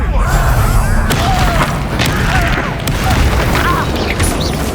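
Blasting spell explosions in Hogwarts Legacy, dense booming bursts that roll continuously with crashing debris, loud and close under a spoken spell incantation.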